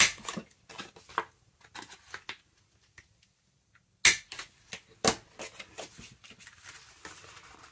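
Paper corners on an envelope flap being rounded with a corner punch, heard as a few sharp, crisp snapping clicks spaced apart among quieter paper handling rustles, close and alone.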